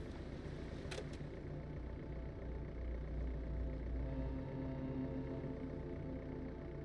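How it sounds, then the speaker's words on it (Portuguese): A low, steady engine drone with a deep throbbing hum, continuous and fairly loud, with faint rumbling underneath and no voices. "Fez o barulhinho do barco e tal"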